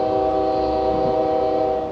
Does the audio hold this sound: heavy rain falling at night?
no